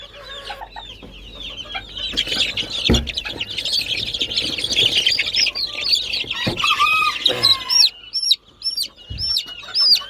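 Blue Mottled pigeon chicks chirp close by in rapid, high, overlapping peeps that rise and fall, along with a few soft thumps and rustles of handling, and no one talks.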